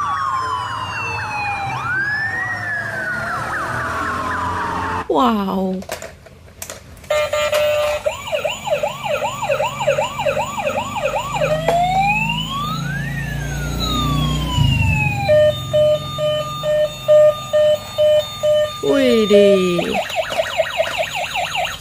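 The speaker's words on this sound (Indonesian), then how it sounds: "Sirenenya sangat keras" A loud police motorcycle siren in a video game cycles through wails, rapid yelps and hi-lo tones, with brief bursts of other effects and a couple of short exclamations.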